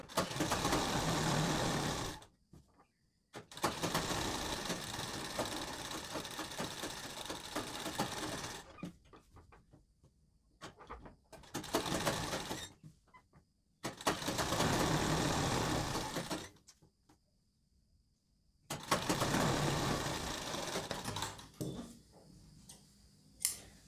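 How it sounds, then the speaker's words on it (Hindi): Sewing machine stitching the folded edge of a kurti fabric panel, running in several loud bursts of steady rapid whirring separated by short silent pauses, close up with no talk. "इसको यहाँ पर मोड़कर सिलाई लगाते जाना है"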